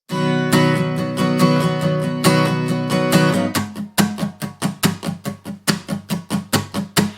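Steady rhythmic strumming on an acoustic guitar, first sustained ringing chords, then a tighter choppy back-and-forth pattern with regular accented strokes, played alone and up close.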